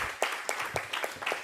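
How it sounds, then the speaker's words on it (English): Audience at a book launch clapping, a short patch of scattered, moderately close handclaps over a low murmur of the room. "So I want you all to clap for yourselves again"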